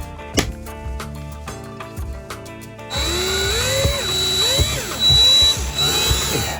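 A drill enlarges bolt holes in a metal adapter plate, a loud whirring that rises and falls as the bit bites and slows, after a run of ticking, rhythmic clicks.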